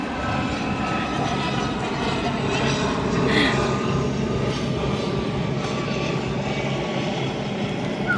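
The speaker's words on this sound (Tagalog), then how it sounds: "Ayun, helicopter." A helicopter passing overhead on a hot day out near a park in West Kowloon, Hong Kong, a steady, loud droning rotor and engine roar filling the whole stretch, with a faint voice briefly over it.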